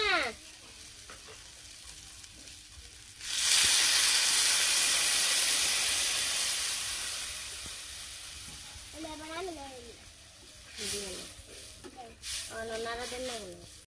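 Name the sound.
water added to frying curry, sizzling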